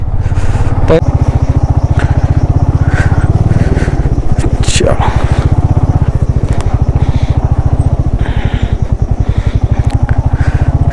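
A motorcycle ridden on a road trip out of Manipur gives a loud, steady throbbing engine note that runs unbroken for the whole stretch, with a brief sharper swell of noise near the middle.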